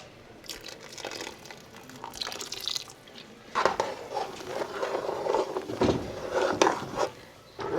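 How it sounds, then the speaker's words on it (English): Pigeon pea soup with coconut milk, green hot peppers and roku bubbles at a rolling boil in a pot, giving steady close bubbling and popping with crackly liquid texture that grows busier partway through, with no voices. "we have now come back up to a nice rolling boil after we added coconut milk"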